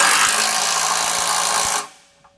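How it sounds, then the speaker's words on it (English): Power tool driving a 16mm socket to tighten the nuts on a Curt trailer hitch receiver on a 2019 Mercedes-Benz GLA, a loud steady whirring buzz with faint rhythmic impacts that stops abruptly near the end. "we want to grab that same 16mm socket and tighten up all the nuts"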